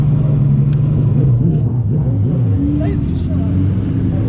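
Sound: race car accelerating

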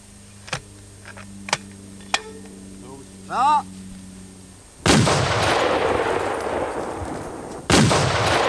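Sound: weapon firing at an enemy tank

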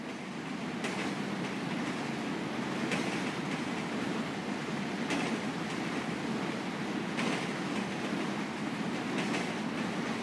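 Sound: train passing in the video game GTA V

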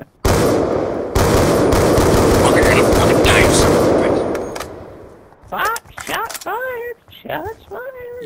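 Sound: gunfire in the video game Black Ops II

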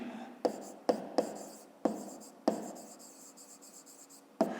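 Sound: writing by hand

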